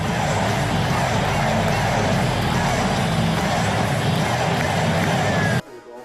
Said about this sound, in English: loyal Kings fans took each and every opportunity to cheer for their home team